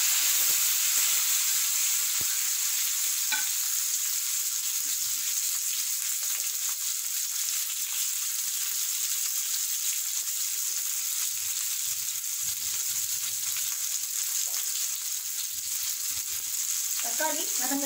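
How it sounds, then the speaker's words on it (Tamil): Onions and tomatoes fry in oil in a pan for mushroom gravy, making a steady close hiss and sizzle that lasts throughout, with a few faint clinks near the end and no talking. "இப்போ தக்காளி சேர்த்துக்கலாம்."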